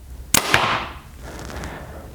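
A Mathews V3X 33 compound bow fires, a sharp close snap followed by a second quick crack, then a short decaying hum as the string settles, with quiet background after.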